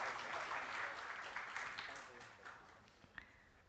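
Audience applause at a renewable energy seminar, a broad wash of clapping from a crowd that starts full and gradually thins out, fairly faint and distant.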